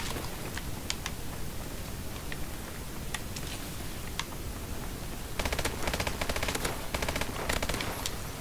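Submachine gun fire in Call of Duty Advanced Warfare: sharp, rapid bursts of shots over steady game noise, sparse at first, then a dense clattering volley in the final seconds.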